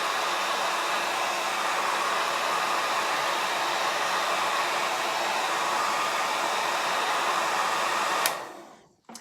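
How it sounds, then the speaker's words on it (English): A hair dryer blows steadily with a loud, continuous airy roar, then clicks off and winds down near the end. "Let's cheat a little bit with our hair dryer."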